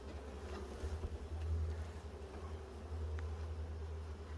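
Honeybees buzz around an open hive during a beekeeper's first real inspection, a steady low hum close by that swells and fades slightly, with faint handling sounds.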